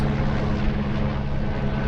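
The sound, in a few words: police helicopter flying overhead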